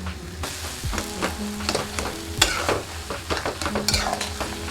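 Soya chunks sizzle and are stirred in a hot pan with sugar and chilli powder, giving close, repeated scraping strokes and clinks of the spoon over a steady frying hiss, with no talking.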